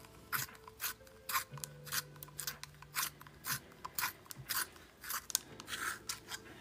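A colored pencil is sharpened in short repeated grinding bursts, each a crisp rasping scrape, close and fairly quiet, with brief pauses between turns and no talk.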